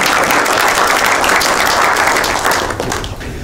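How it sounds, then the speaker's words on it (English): Loud, dense applause from the audience at a city council meeting, a full round of clapping that holds steady and then begins to thin toward the end. "I think that's worthy of a round of applause"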